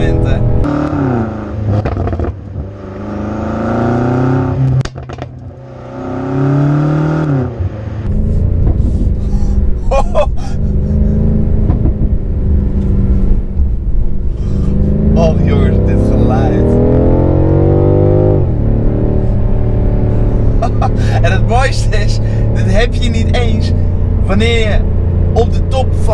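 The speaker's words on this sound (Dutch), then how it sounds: "De bak zoals je hoort, hij weet precies wat je zoekt op welk moment." A BMW M5 Competition accelerating hard, its engine rising in pitch through several gearbox shifts with brief dips between gears, loud and close, while someone talks over it throughout.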